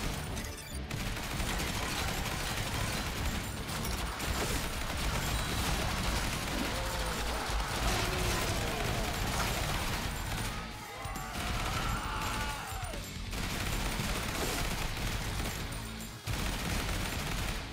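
Dense pump-action shotgun blasts and sustained minigun fire rattle on almost without a break in a zombie survival video game, loud and cluttered with crashes and effects, and a few brief dips in the barrage.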